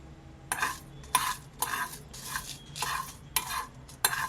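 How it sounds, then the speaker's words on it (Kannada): Coriander seeds and two Byadgi chillies fry lightly in a pan, with a utensil stirring in bursts of scraping strokes roughly every half second over a faint sizzle. "ಇಲ್ಲಿ ನಾನು 2 ಬ್ಯಾಡಗಿ ಮೆಣಸಿನ್ಕಾಯಿನ ತೊಗೊಂಡಿದ್ದೀನಿ. ಇಷ್ಟನ್ನು ನಾನು ಲೈಟಾಗಿ ಫ್ರೈ ಮಾಡ್ಕೋತೀನಿ."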